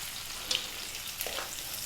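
Sliced onion for dal fry sizzles in a hot pan over medium heat with a soft, steady crackle and a couple of brief sharper pops, fairly quiet with no voices.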